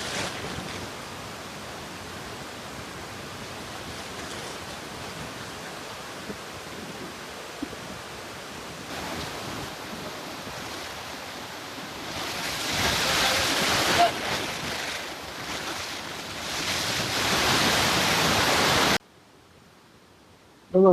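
Strong water surges over the overflowing dam at Wandri lake as a steady, dense roar, swelling louder partway through and ending abruptly, with wind buffeting the microphone.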